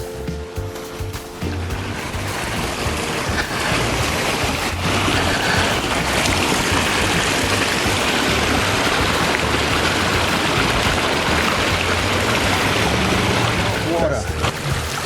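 Murky runoff water flows in a stream with a continuous, fairly loud rushing wash, briefly layered with a tonal hum near the start and a faint voice toward the end.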